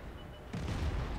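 A tank destroyer's cannon fires once in a tank video game, a sudden low boom that rumbles on after a quiet start, heard close with no talking.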